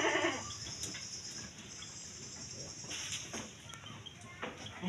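Jawa Randu goats, males and females, in a pen, bleating intermittently at close to middle distance over a noisy farmyard background.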